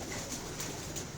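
Pigeons kept by a fancier in Bakkar Mandi coo softly and continuously, a low murmuring burble with a steady ambient hiss over the whole moment, no voices.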